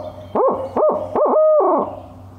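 A turkey hunter beside a tree imitates a barred owl hoot by voice, giving a loud, close series of about four rising-and-falling hooting notes with the last one drawn out, no other talk.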